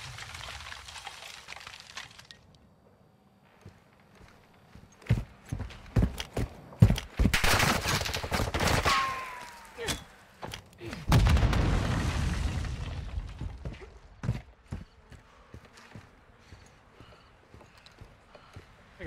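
Loud video game gunfire and explosions in a competitive first-person shooter match, with repeated sharp shots, bursts and heavy booms around the middle, fading to scattered shots near the end.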